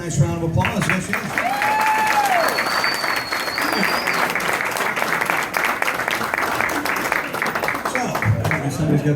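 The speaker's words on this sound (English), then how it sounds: "Give her a nice round of applause." An audience at a hypnosis show breaks into a long, loud round of applause that stays steady for several seconds before fading, with a few whistles and voices mixed in.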